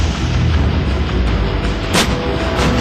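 An M777 ultralight howitzer fires with a single sharp, loud boom partway through, set against a constant heavy outdoor rumble.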